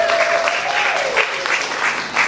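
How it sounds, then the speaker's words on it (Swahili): Church congregation applauding, a dense, steady wash of many hands clapping, with voices calling out over it and a rising shout near the start. "makofi sana kwa Yesu."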